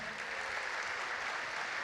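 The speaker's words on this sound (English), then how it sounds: "One more round of applause for Brother Malcolm." Continuous, even applause from an audience for Brother Malcolm at an interview event, a dense wash of clapping held at a steady moderate level throughout.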